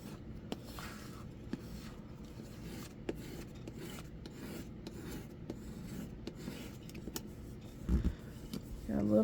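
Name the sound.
burnishing a metal die holder surface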